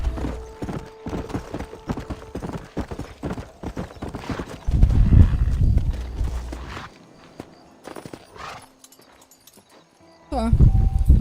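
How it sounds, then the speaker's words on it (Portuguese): Horse hooves clip-clopping in Red Dead Redemption, a dense run of sharp rhythmic hoofbeats up close over about seven seconds, then a lull and a brief louder burst at the end, with a dog-like whine and talk mixed in. "Este cavalo agora é sua fiel montaria"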